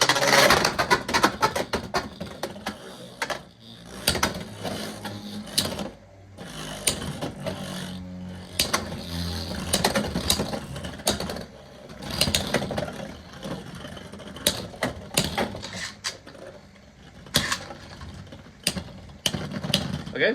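Beyblade X spinning tops whir and clatter against each other inside a plastic stadium, a dense stream of close, sharp clicks and grinding with brief lulls between clashes.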